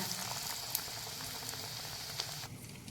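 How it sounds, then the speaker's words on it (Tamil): Batter-dipped raw banana slices fry in hot oil for bajji, filling the clip with a dense, steady bubbling sizzle and occasional small pops, close and continuous. "எண்ணெய் காஞ்சதும் எடுத்து வச்சுருக்க வாழைக்காய் ஸ்லைஸை ஒன்று ஒன்றா மாவில் டிப் பண்ணி இப்படி போடுங்க"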